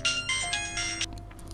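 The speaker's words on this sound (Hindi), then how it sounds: "दरवाजे बंद कर मैंने फ़ोन मिलाया।" A telephone ringtone plays after a call is dialled, a bright melodic electronic ring in short repeated bursts, fairly loud and close, fading slightly at the end.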